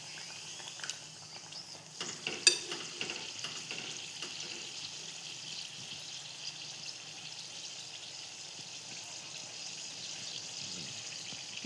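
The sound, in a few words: puri frying in oil on the gas stove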